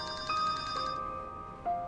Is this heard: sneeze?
no